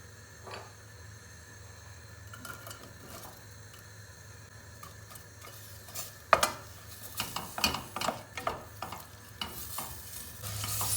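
Onions sauté in a pan for broccoli soup, a soft steady sizzle with a spoon scraping and stirring, growing busier and louder toward the end, close up with no voices.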